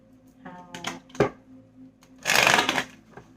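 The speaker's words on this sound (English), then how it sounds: "I can't shuffle today, I guess." Tarot cards are shuffled by hand up close, with scattered riffling taps and then a dense, loud burst of card flutter lasting about a second, with no talking over it.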